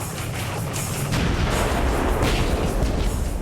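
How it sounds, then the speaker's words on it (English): Long-range artillery bombarding Henderson Field on Guadalcanal in WWII: a dense, continuous rumble of booms and blasts that swells and holds steady, loud and heavy with no clear gaps between impacts. "their newly arrived long-range artillery zeroed in on Henderson Field"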